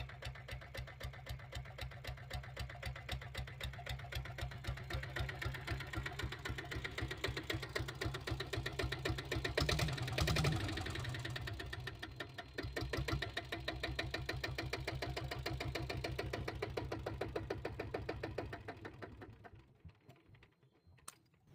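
A diesel Royal Enfield Bullet motorcycle rated 7.5 HP idles close by with a steady, rapid thumping beat that holds for about twenty seconds and then cuts out at the end.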